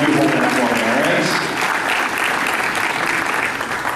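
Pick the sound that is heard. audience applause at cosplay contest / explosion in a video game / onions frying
audience applause at cosplay contest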